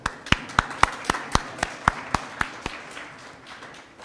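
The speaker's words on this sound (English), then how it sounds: "let's just quickly give a big round of applause for the session that we've just had now before the tea break" A small conference audience gives slow, sparse applause after a session, about a dozen distinct claps in a loose rhythm that thin out and stop, leaving quiet room tone.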